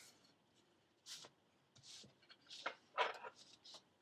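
Duck tape is folded and creased for a wallet, giving several brisk crinkling, rubbing bursts at close range, with quiet pauses between them.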